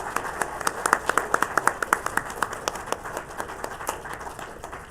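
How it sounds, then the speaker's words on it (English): An audience at the 2021 Classified Employee of the Year awards applauds the nominees with steady, distinct claps from a modest crowd that keep a loose rhythm for several seconds. "Let's give another round of applause to all our nominees."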